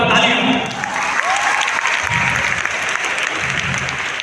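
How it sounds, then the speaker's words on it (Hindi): Loud applause from a large student audience at a grand celebration event in Kolkata, a dense, sustained roar of clapping with a voice speaking over it at times. "तो आप सबके लिए एक बार जोरदार तालियां।"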